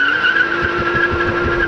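A 2016 BMW M2 driven hard on the track at Laguna Seca, its tires squealing in a loud, steady skid over a low engine drone, with no talking.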